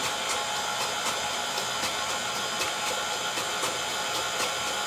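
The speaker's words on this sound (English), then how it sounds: "right now I have this KitchenAid on 2. And it's incorporating nicely." A KitchenAid stand mixer runs on speed 2 while eggs are beaten into lemon pound cake batter, giving a steady, loud motor whir with a faint rhythmic pulse and no talking.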